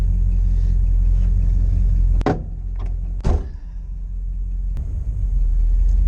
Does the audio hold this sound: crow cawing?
no